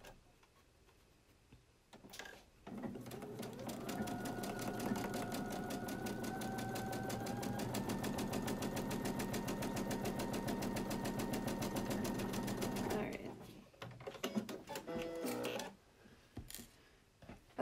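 A sewing machine stitches the side seam of a fabric face mask in one steady run of rapid needle ticks lasting about ten seconds, preceded and followed by brief handling noises, fairly quiet and with no talking.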